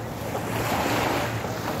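Seaside waves wash steadily near a boat ride, a continuous soft surf rush with wind buffeting the microphone and no voices.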